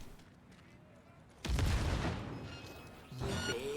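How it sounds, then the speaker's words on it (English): A grenade detonates in the video game Cyberpunk 2077, a sudden loud boom that rolls on with a crackling decay under faint background sound, followed by a second burst of noise near the end. "See if I can get one of them with the old nade here."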